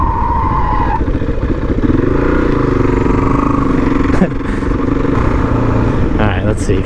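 A Husqvarna SMR 510 supermoto engine revs in first gear on a road, a loud steady motor drone with a brief rise, and a rider talks over it.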